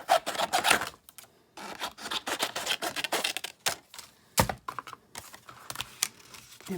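Paper being cut to fit a folder at a craft table: bursts of close, dry scraping and snipping in an irregular rhythm with short pauses, no voices.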